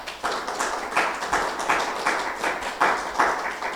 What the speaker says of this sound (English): would you give Mr. Earl Hackett a round of applause?